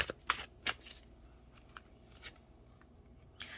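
Tarot cards are shuffled and drawn close by, with several quick papery riffles and flicks at the start, then scattered softer slides and snaps of cards, and no talking.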